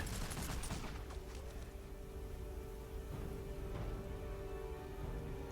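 Dense, sustained gunfire volleys in a Warhammer: Mark of Chaos battlefield fight roar continuously, thick and loud, with the crackle of many overlapping shots.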